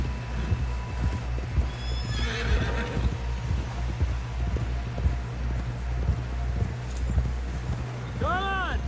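A horse in the Western video game Red Dead Redemption 2 clip-clops steadily along with thudding hooves, then gives a loud whinny near the end. Voices talk throughout under the hoofbeats.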